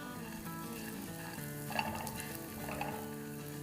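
Raisins and nuts roast in a pan for churma ladoo, giving a steady, soft sizzle with a few stirring scrapes and light pan clinks throughout, over continuous background music.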